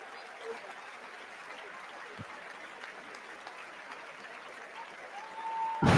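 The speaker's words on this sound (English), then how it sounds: "I think they're clapping because it's over." Faint, steady wash of applause from the chamber audience at the end of a State of the Union address, continuous and distant.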